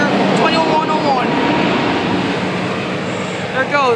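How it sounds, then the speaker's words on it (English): Amtrak passenger train 702 departing Madera, California station, a Siemens Charger locomotive, heard as a loud, steady rolling rush with brief horn-like tonal sweeps near the end, fairly close. "There it goes, Amtrak train 702,"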